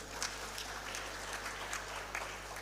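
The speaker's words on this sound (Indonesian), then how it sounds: "Itu tepuk tangan untuk Bapak Domingus" Faint, steady applause from an audience at a university graduation ceremony in West Papua, a soft wash of many hands with a few sharper claps poking through, heard from a distance.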